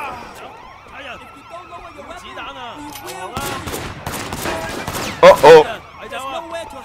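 Gunfire in the video game Sleeping Dogs, with sharp shot bursts among siren-like tones and game noise and a loud cluster of shots near the end, while someone speaks and exclaims over it.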